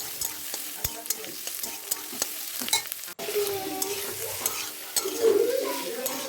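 Onions with salt and turmeric frying in a wok after nigella seeds, garlic and chilli, giving a steady sizzle broken by repeated scraping stirs of a spatula, louder bursts later on, with no speech.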